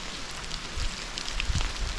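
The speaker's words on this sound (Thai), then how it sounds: "ฝนตกเลย" Rain falling in a mountain forest on Doi Hua Mu near Doi Pui, Chiang Mai, during a trek; a soft, continuous patter with scattered louder drops close by and a light rustle underneath.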